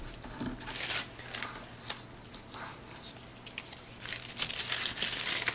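Crinkling and rustling of plastic packaging as items for a vintage Santa holiday card kit are pulled out, irregular crackles and soft handling noises close by, moderately quiet with no talking.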